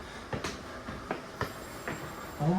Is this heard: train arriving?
yes